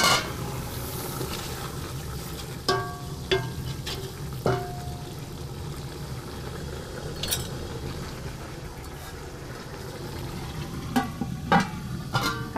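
Vegetables for a stew fry in a pot with a steady sizzle while a utensil stirs and scrapes in a few sharp, distinct knocks and clanks, close and without speech.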